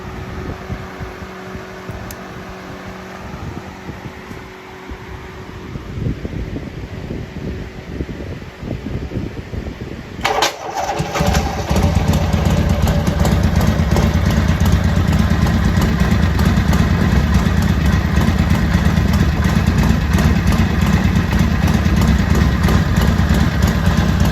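A 1973 Harley-Davidson Sportster engine cranks and fires up around ten seconds in, then settles into a loud, steady, rumbling idle that continues to the end.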